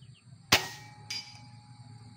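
An upgraded air gun fires once at a target about 90 meters away, a sharp close crack followed half a second later by a fainter metallic clang, over a low steady background hum.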